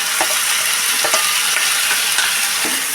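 Chopped taro being stirred into an onion and grated coconut mixture in a hot pan, a dense steady sizzle broken by scraping spoon strokes and small clicks, close and alone.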